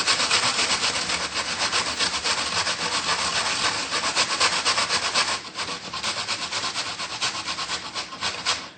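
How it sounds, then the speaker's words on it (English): Horseradish root grated on a hand grater with continuous, loud rasping strokes in a fast, steady rhythm, close up and without talk, slightly lighter near the end. "So here I'm just going to use the grater."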